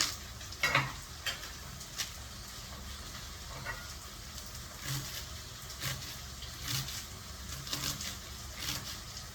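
Potatoes frying in a pan for a Telugu thotakura aloo fry, a soft continuous sizzle with occasional stirring scrapes and small clatters, steady and moderately quiet throughout with no talking.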